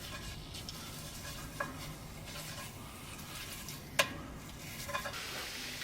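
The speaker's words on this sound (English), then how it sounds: "we're just going to start chunking that guy up like ground beef." Sausage being broken into chunks as it fries in a cast iron pan over camp coals: a steady low sizzle with soft scraping stirs and a few sharp utensil clicks against the iron, one standing out partway through.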